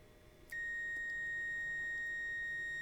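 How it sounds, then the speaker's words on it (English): After a brief click, a multimeter gives a steady high-pitched continuity beep, continuous and clear, close by, with no voices. "So the meter beeps"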